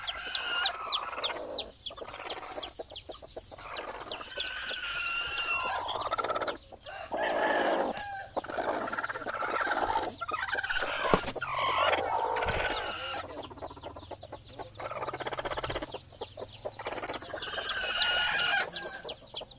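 Chickens and young chicks cluck and peep close by in a steady, busy chorus, with a rooster crowing among them, all under open outdoor air.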